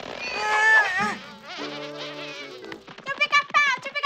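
Cartoon flies buzz loudly and close, a whining drone mixed with musical tones that breaks into rapid fluttering bursts near the end.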